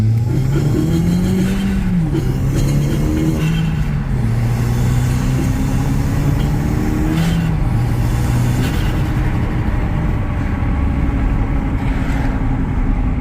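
A first-generation Audi TT Quattro engine with a mildly ported head drones loudly and continuously from inside the car, its pitch rising and falling as it shifts and accelerates, with road noise underneath.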